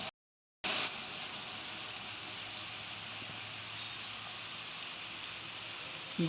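Continuous rain hiss fills a roadside scene near Aldi, Munshiganj, after a brief dropout at the start, steady and even with no voices.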